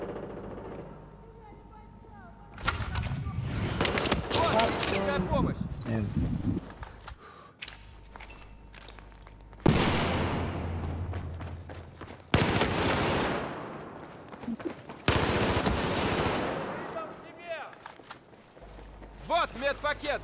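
Suppressed gunfire in a video game comes as several bursts of rapid muffled shots separated by pauses, mixed with mechanical clicks and faint game sounds.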